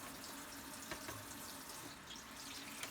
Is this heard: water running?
yes